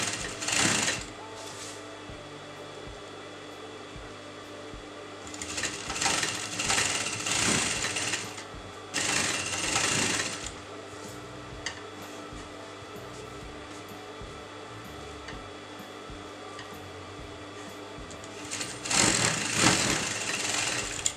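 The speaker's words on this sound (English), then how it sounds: "and I'm going to sew it on top." A sewing machine runs in several bursts while stitching a frock with a sweetheart neckline, with long near runs separated by short pauses and no talk.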